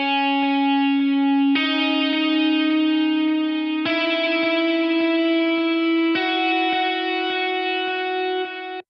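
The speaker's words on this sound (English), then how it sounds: "So it's a stereo guitar, there's already delay and reverb." A sustained stereo electric lead guitar plays four long notes in a rising line, with a wide, echoing delay and reverb tail.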